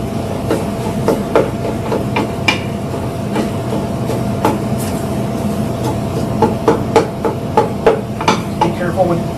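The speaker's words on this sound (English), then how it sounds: "I just kind of chop away at it with a spoon." A spoon chops repeatedly at turkey chili in a pot, giving a steady series of sharp clicks and knocks over a continuous low rumble and bubbling, close and fairly loud.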